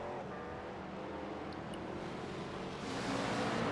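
Race cars roar continuously in a racing video game set at Las Vegas Motor Speedway, one of them a Ford, running in traffic with a steady engine drone that swells slightly toward the end.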